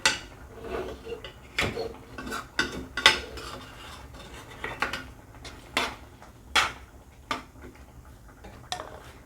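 A spatula scrapes carrot halwa from the sides of a pan in a series of irregular metallic scrapes and clinks, some sharp and close, with quieter stirring in between and no talking.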